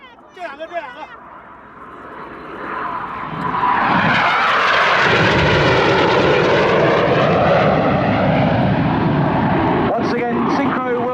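Red Arrows jets at an air day roar at full power during aerobatic display flying, a loud sustained rushing engine blast that swells after a few seconds and holds steady, with a crowd murmuring faintly beneath.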